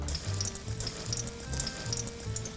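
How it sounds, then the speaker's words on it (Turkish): A scored vegetable deep-fries in oil with a continuous bubbling hiss, steady and moderately quiet throughout, over a faint low tonal hum. "kızarması için direkt derin yağ koyuyorum"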